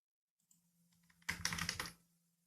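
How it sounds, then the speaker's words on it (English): Burst of computer keyboard typing, a quick run of close, crisp key clicks lasting under a second, entering text into a textbox. "Let's try to type something in it."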